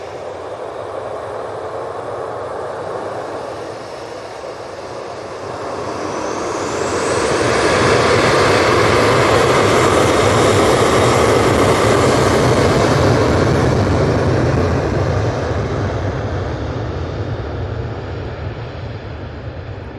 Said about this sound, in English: This Jet2 is off to Marrakesh.